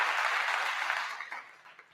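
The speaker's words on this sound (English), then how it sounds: "Let me give you some crowd applause here." Crowd applause plays as a sound effect, a dense wash of clapping that starts full and gradually thins and fades over two seconds.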